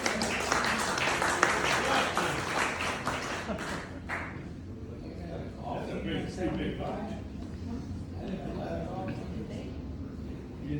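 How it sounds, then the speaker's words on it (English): Crowd at a Class of 1975 fifty-year high school reunion in La Porte City claps for a few seconds, the applause fading as a single voice begins talking over the room. "So give yourself a round of applause."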